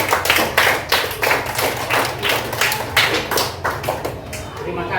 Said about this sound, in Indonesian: Kita tepuk tangan untuk kita karena kita hadir semua hari ini.